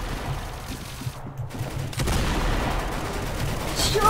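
A Mauser rifle fires in Roblox Arsenal amid dense, noisy game action. The shots crack in quick bursts over a constant rumble of battle.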